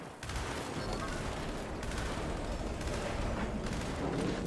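Gunfire in Gears 5 crackles as a continuous, fairly faint barrage of overlapping shots that keeps going throughout.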